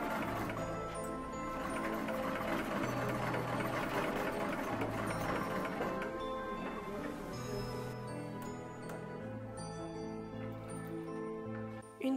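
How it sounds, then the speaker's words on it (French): A 1910 treadle sewing machine stitching fabric runs steadily for about twelve seconds, its needle clatter continuous and close, with music playing throughout. "je dois pédaler sur cette machine à coudre de 1910"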